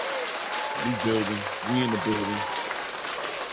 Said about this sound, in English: clap it up for boxing, clap it up for yourselves.